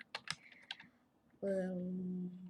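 Promo codes being typed on a computer keyboard: a few quick, separate key clicks fairly close, then a steady tonal hum takes over partway through.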